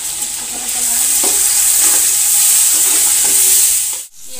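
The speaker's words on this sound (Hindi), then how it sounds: "चम्मच इसको थोड़ा चला लेंगे" A spoon stirs green chili paste, white cumin and black pepper in hot oil in a pot for chicken yakhni pulao, a loud continuous sizzle with soft scraping strokes, ending abruptly.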